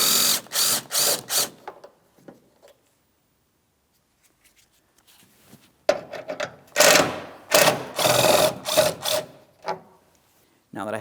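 A hand ratchet works on the 10mm mounting bolts along the top of a headlamp assembly on a 2007–2014 GMC Sierra 2500 HD. It clicks in two close clusters of rapid strokes with a pause between them.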